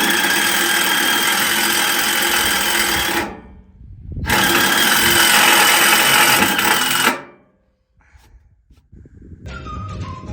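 A power drill drives trailer deck screws in two long, loud, close whirring runs, the second ending in a winding-down pause before faint clatter and handling noise.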